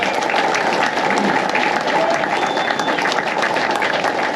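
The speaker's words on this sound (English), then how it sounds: "Let's give these guys a round of applause." Passengers and volunteers on an Honor Flight Chicago trip give a loud, close round of applause, a dense, even clatter of many hands lasting several seconds, with a few voices in the background.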